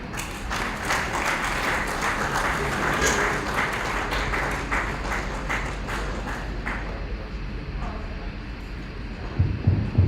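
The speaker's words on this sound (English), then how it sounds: "So there's another round of applause for her." Sustained audience applause fills a room at a security association members retreat in Lagos, a dense steady clatter of many hands that carries on throughout and thins slightly near the end.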